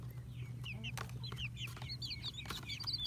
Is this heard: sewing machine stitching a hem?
no